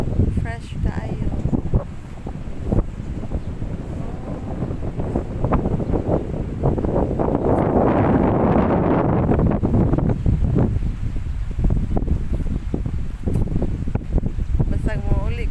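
Steady wind blowing across a beach at Dumanjug, a continuous roar of microphone buffeting with surf-like rushing that swells in the middle, with a voice talking over it.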